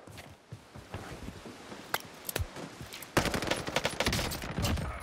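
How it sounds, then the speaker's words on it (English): Gunfire in a Warzone solos match, with several distant shots at first, then a dense burst of rapid automatic fire that grows louder and continues to the end, mixed with footsteps and gear movement. "I hear a bunch of people shooting down below me"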